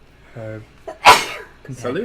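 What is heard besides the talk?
sneeze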